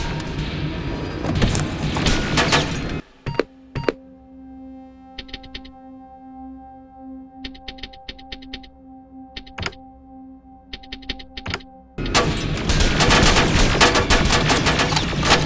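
Automated turret gunfire in the video game Terminator Resistance: loud, heavy bursts at the start and end, with rapid shot clusters and single impacts between them over a steady electronic hum.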